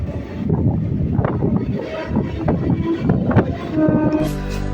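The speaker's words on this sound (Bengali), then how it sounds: "দত্তপুকুর থেকে ট্রেনটা ছেড়ে দেওয়ার সাথে সাথে আমাদের ট্রেনটা কত সুন্দর ছুটে চলেছে এই কুয়াশার মধ্যে দিয়ে" A train pulls away from Duttapukur station in foggy weather, giving a rumbling, rattling run with wind buffeting the microphone and a rising tonal whine near the end, steady and moderately loud.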